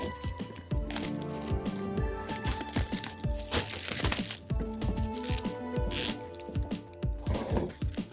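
Plastic shrink wrap being cut and peeled off a large Kalour 520 colored pencil set, with close, crinkling crackles and sharp snips repeating steadily throughout.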